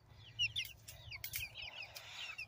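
Young chickens in a coop give soft, scattered clucks and chirpy peeps, several birds close by in quick irregular bursts over a quiet background.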